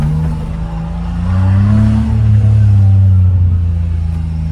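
A car exhaust rumbles loud and close inside the car, its low drone rising in pitch as the engine revs up midway, then settling back to a steady growl while driving.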